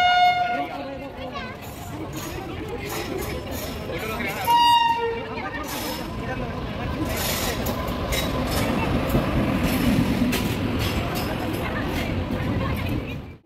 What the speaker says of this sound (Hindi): स्टेशन में चहल पहल है क्योंकि ट्रेन आ रही है